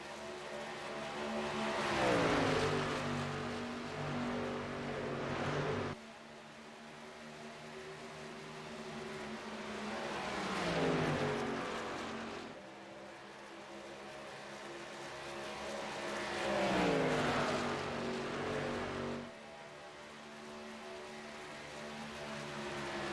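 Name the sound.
racing trucks at Chicagoland Speedway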